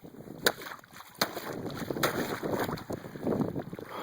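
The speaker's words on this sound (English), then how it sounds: "The wind is kind of bad." Gusty wind buffets over a frozen Minnesota lake during muskrat trapping through the ice, a rough rumbling roar with sharp knocks mixed in, close and fairly loud.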